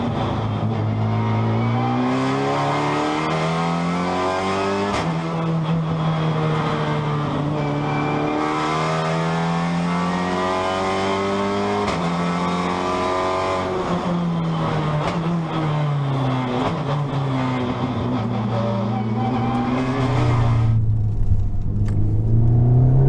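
A Honda Civic Type R FK8 TCR race car engine revs steadily and loudly for over twenty seconds, its pitch climbing and falling in repeated sweeps with a constant close rumble and no talk.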